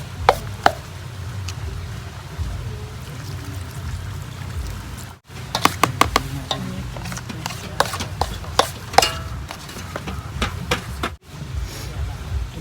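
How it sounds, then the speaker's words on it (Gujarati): A potato mixture is stirred in a bowl with scattered close taps, scrapes and clicks from the utensil, continuing alongside a person talking. "તો હવે આપણે બધું એકદમ હલાવી દેવું અંદર."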